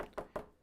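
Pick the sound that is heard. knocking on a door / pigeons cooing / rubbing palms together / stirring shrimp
knocking on a door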